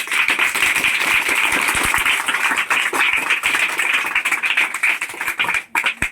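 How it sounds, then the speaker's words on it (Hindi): Loud round of applause from students at a Waskle school, dense rapid clapping sustained for several seconds before tapering and briefly dropping out at the end. "एक जोरदार ताली होना चाहिए।"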